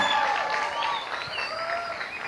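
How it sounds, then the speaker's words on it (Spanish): Applause from an audience at a church camp plenary session, a dense steady wash of clapping that fills the short stretch with slight crowd noise mixed in. "si quieren dar un aplauso, aplaudan decentemente"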